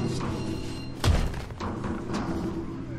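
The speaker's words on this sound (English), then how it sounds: "Saving ammo by booting you in the face." A single heavy thud of a melee kick landing on an enemy in Crackdown, short and punchy over steady game background noise.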